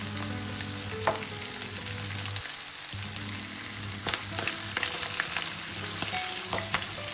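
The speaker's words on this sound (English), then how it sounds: "And mix it all around so that the pesto can properly give flavor to the rest of the ingredients." Pasta tossed with pesto in a pan, a spatula scraping and clattering against the metal over a steady low sizzle, with sharp knocks scattered through and a brief lull near the middle.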